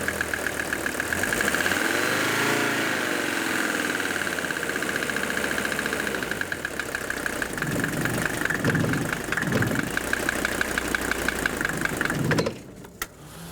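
Diesel engine brought just off idle, running steadily and loud with a rapid rhythmic knocking that could be a failing piston, the pace picking up slightly toward the end before it cuts back.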